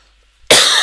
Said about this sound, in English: Yeah, cough's still here.